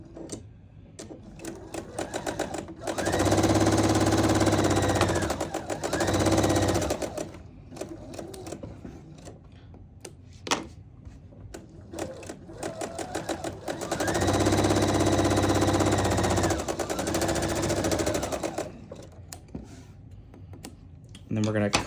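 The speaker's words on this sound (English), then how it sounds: "stitch 1/4 inch on each side of that line" Sewing machine stitching quarter-inch seams on either side of a marked line through paired quilt prints, in two long steady runs with a quiet gap between them.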